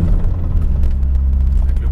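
Steady low rumble of a Citroën XM 2.0 turbo car engine and road noise heard from inside the cabin while driving, loud and continuous.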